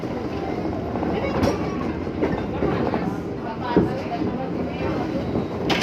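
Riding aboard a JR 203 series commuter train between Tanah Abang and BSD: a constant rumbling roar with rhythmic clacks and occasional thumps, heard from inside the carriage.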